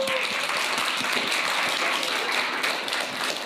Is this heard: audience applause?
yes